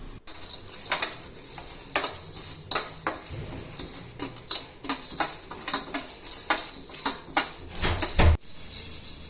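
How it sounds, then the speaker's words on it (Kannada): Cumin and black pepper are dry-roasted in a pan, with irregular close clicks and scrapes of a spoon stirring against the metal and a faint crackle. "ಈಗ ಜೀರಿಗೆ ಮೆಣಸು ಹುರ್ಕೋಬೇಕು"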